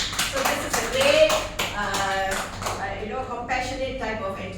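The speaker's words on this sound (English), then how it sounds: "give her a big clap" An audience at a communication skills session claps in a short burst of applause, mixed with talking and scattered taps before it trails off.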